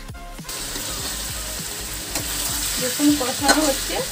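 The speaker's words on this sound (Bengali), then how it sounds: "এবার চিকেনটা এর উপরেই 5 মিনিটের মতো ফ্রাই করবো" Chicken fries in a hot pan with a continuous close sizzle, while rhythmic stirring scrapes and clicks of a spoon against the pan repeat throughout, growing slightly busier toward the end.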